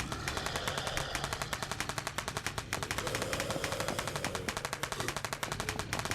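Rapid automatic gunfire in the zombie survival video game SurrounDead, a continuous, evenly spaced burst of shots lasting several seconds, loud and dense with no talk over it.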